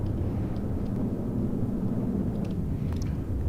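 A jet aircraft engine in the From The Depths combat game gives a steady, loud low roar that holds through the whole stretch with no talking over it.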